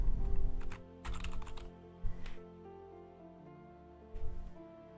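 Bursts of fast keyboard typing on a computer during 3D modeling work, several quick clattering runs of keystrokes close to the mic with short pauses between them.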